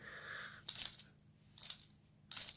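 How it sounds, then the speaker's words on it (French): A battery compartment rattles loose inside a handle, producing three short bursts of metallic clinking and jangling, close and fairly quiet, with near silence in between. "vous entendez, il y a le compartiment à piles qui bouge à l'intérieur"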